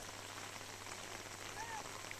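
Unseasonal rain falling over coffee plantations in Hassan district, Karnataka, as a steady, even hiss of drops with no break, fairly quiet and distant-sounding, and no voices.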